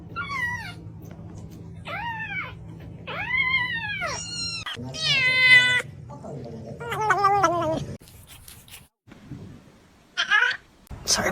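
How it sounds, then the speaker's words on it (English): A pet cat meows repeatedly, a string of rising and falling cries, some drawn out like a caterwaul, close by with a low hum underneath and a voice speaking briefly near the end. "Sorry, my cat."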